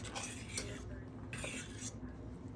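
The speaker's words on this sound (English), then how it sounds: "I mix it all together really good." Cheesy potato casserole being mixed with a utensil in a dish, giving soft scraping and clinking strokes at close range, with faint background noise.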